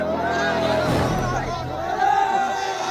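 Crowd of villagers gathered around a small aircraft that crashed in a farm field in Bagdaha village near Bodh Gaya, Bihar: dense, steady murmur of many voices talking at once, fairly close, with no single voice standing out.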